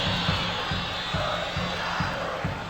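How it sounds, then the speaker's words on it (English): Football stadium crowd at a Saprissa versus Monterrey CONCACAF semifinal roaring in a sustained, dense wash of cheering and shouting, loud and continuous with rhythmic chanting pulses underneath. "The biggest cheer we have heard in the match thus far for the goalkeeper's shortcoming on the clearance"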